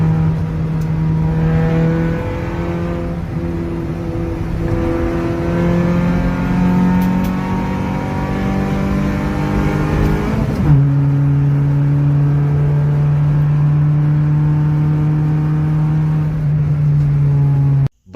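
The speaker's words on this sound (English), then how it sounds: "why we would dyno a almost completely stock 2007 Toyota Corolla" Almost completely stock 2007 Toyota Corolla running on a dyno, a loud close engine holding steady drone with rising harmonic sweeps as revs climb, then shifting to a lower steady tone before cutting off abruptly.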